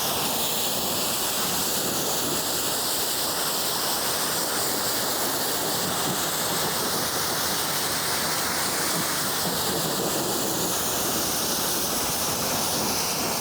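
A ceramic-coated car rinsed down with water after its first wash following winter, a loud, continuous hissing spray that holds steady throughout, with no talking.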